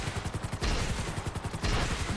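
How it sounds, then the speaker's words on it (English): Sea Sparrow in a video game firing a continuous stream of missiles: rapid, evenly spaced bursts in a steady rhythm, with two louder surges of blast noise, close and loud, no talk. "the other great thing with the Sea Sparrow over the Buzzard is it fires missiles continuously"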